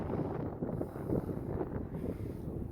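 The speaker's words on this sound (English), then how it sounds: "I've got to figure out how to deal with this wind because it's so loud." Strong gusty wind buffets the microphone on a disc golf course, a loud, rumbling roar that swells and dips over a few seconds.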